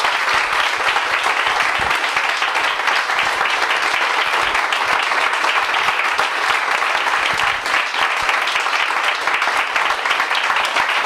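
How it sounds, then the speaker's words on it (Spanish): An audience gives a speaker a long, dense round of applause, loud and steady throughout with no break, many hands clapping at once. "un fuerte aplauso para Fernando Ballester"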